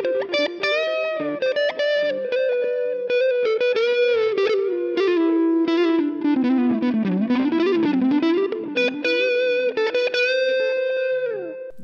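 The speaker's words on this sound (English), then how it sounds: "So a little bit of overdrive on that. It's probably gonna sound really, really good on the neck pickup." A GTRS S801 intelligent electric guitar played through light overdrive on the neck pickup: a continuous sustained melodic line with bends and slides, warm and slightly gritty, with chorus-like modulation, close and steady with no talking.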